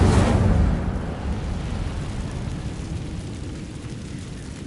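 An Incendio fire spell is cast in the video game Hogwarts Legacy, bursting out as a loud fiery whoosh at the start that settles into a lower, steady roaring rumble.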